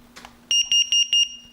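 A new carbon monoxide alarm in a rented home, sounding four loud, shrill, evenly spaced electronic beeps close by.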